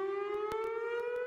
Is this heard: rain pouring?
no